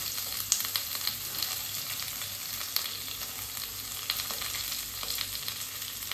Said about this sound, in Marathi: अजून कांदा भाजायचा चालू आहे